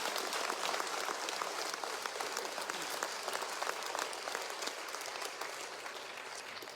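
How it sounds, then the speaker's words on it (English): Steady, dense applause from a graduation ceremony audience, fairly faint and distant, with no voices standing out, sustained throughout and tapering slightly toward the end. "Let's give an applause for all our loved ones."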